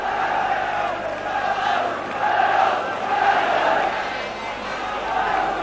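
Football crowd at Tannadice stadium during Dundee United versus Motherwell, a broad roar of many voices swelling and easing in waves, sounding from across the stands.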